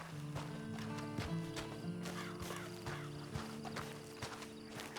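A horse in the Western video game Red Dead Online, hooves clip-clopping steadily over a dense mix of game music and ambience, with a snort or whinny near the start and a loud continuous bed throughout.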